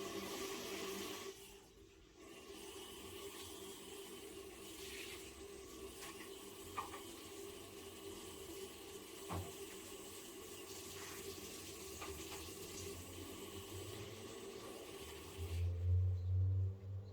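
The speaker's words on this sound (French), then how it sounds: "je vais le passer sous le jet pour donner un choc thermique" Tap water jet running steadily over cooked hemp seeds being rinsed in a kitchen sink, a continuous close hiss with small splashy variations, swelling louder near the end.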